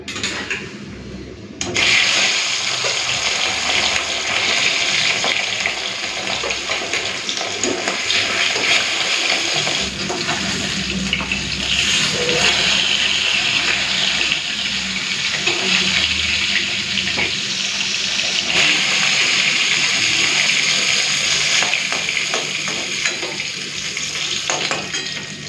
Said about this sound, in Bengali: চলুন একটা করে মাছ ভেজে ফেলি